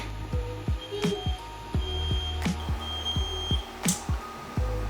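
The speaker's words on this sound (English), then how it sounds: "Okay, this is the fire alarm." Smoke detector beeping in repeated high chirps amid a busy room during 3D printing on an Ender-5 S1, with thumping and clattering sounds alongside.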